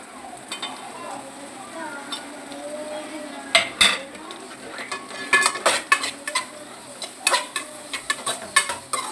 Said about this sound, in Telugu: కొంచెం నూనెలో ఉడికించాలి.